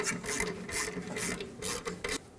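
A socket ratchet tightens a rear brake caliper bolt on a 2013-2018 Hyundai Santa Fe, giving a close, rhythmic series of rasping clicks in quick repeated strokes.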